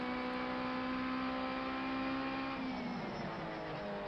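Race car engine in Project Cars 2 on the main straight near the end of a race, a steady loud drone with sustained harmonic tones that shift in pitch toward the end, held continuously over the full clip.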